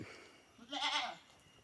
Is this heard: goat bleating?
yes